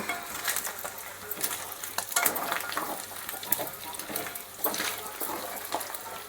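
Mutton pieces frying in a pan with ginger and small onions, Andhra-style, a steady loud sizzle with stirring scrapes and clinks of utensils, no talk.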